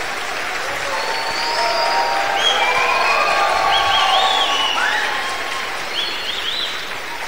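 Wedding guests applaud the newly declared couple, sustained crowd clapping swelling in the middle with some cheers and whistles, then easing off.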